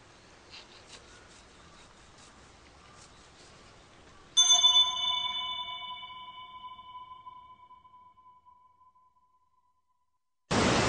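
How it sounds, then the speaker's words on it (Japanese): A single bright ding of a call bell rings out in a quiet room and slowly fades, followed by a sudden burst of noise at the end. "呼び鈴だそうですよ"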